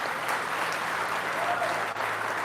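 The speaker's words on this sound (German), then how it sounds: "Ich habe einen großen Applaus von Jesus hier." A congregation claps together in a church service, a continuous, fairly loud burst of applause with a faint murmur of voices beneath.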